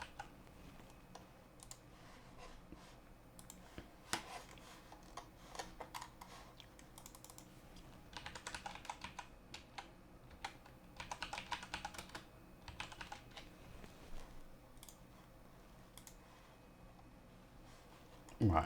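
Quiet, steady typing on a computer keyboard, with irregular bursts of key clicks and a few louder taps, heard close and alone.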